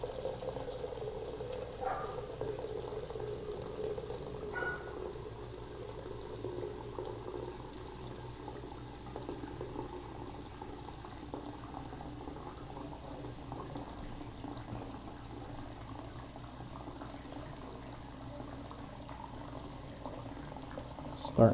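A Moen bathroom lavatory faucet running into a sink to fill it, a steady stream of pouring water at moderate level with gentle gurgling as the basin fills, some faint background sounds and a brief knock at the end.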